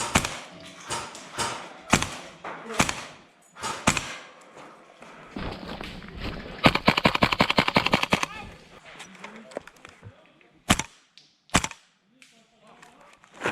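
A Well PRO PPK-20 airsoft replica pistol fires a series of sharp, dry cracks, some spaced singly and one fast rapid burst in the middle, with faint talk in between.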